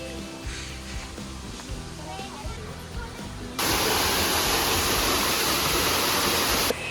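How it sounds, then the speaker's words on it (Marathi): A waterfall at the Garden of Caves in Cherrapunji, Meghalaya, on a foggy day. A quieter stretch with a voice gives way to a sudden, close, loud and steady rush of falling water. "इथे गार्डन ऑफ केव्जमध्ये हा वॉटरफॉल लागला आहे"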